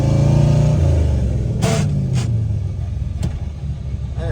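Supercharged LS-powered Mercedes tow truck on a test drive, heard from inside as a loud engine pulling hard with rising then falling revs and a deep rumble, plus a few sharp knocks, with no talk.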